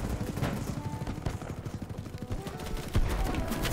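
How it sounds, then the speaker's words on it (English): Distant gunfire in the shooter game BattleBit Remastered, quick muffled bursts and scattered shots crackling faintly under a low game-ambience rumble. "I hear gunfire, but I don't know who's shooting me."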